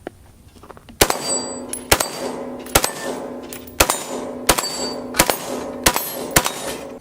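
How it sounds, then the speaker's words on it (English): An AR-15 rifle standing in for an M16 fires eight sharp single shots at a slow, fairly steady pace, each crack loud and close with a short ringing tail and no voices. "for the M16, this is the closest I could get. It's just an AR-15, AR platform, M4, M16 platform."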